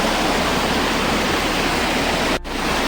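The monsoon Dodhani Waterfall near Panvel roars in a loud, steady, broadband rush of falling water, unbroken apart from a momentary dip near the end, with no voices.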